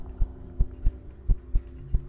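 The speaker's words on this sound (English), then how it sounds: "I can hear your heart beating." Heartbeat sound effect in a horror adventure video game: a steady series of deep, muffled low thumps about every third of a second apart, close and alone over a faint background hum.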